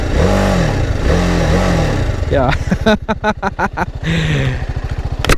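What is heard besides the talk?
TVS Apache RR310 motorcycle engine starting, throaty exhaust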